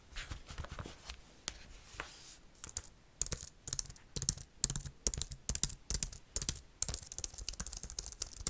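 Fingers type steadily on a computer keyboard, close and crisp, in a soft ASMR setting. The keys click in an uneven, continuous patter with no voices.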